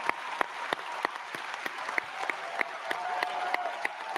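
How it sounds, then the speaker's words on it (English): Polite applause from an audience at a fan event, right after a new actor named Rory McCann is announced in the role of Baylon; scattered, moderate clapping with a few sharper individual claps, steady throughout with no voices. "Is that applause?"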